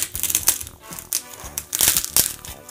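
A knife cuts outward from the center of a styrofoam ball, giving repeated crunchy, squeaky crackles in short uneven bursts, close and fairly loud, with no talking.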